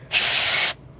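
A single short burst of aerosol cleaner hisses onto a lawnmower carburetor throttle for about half a second, close and alone.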